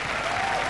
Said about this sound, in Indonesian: Berikan tepuk tangan sekali, untuk Miguel.